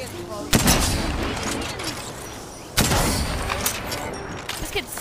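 Gunfire in a video game, with two heavy bursts of shots that ring out loud and close, each trailing into a rattling decay, over a steady rumble of game sound.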